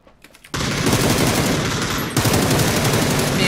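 Sustained rapid automatic gunfire in the video game PUBG, a loud, dense burst of shots that starts abruptly after a brief quiet moment and continues without pause.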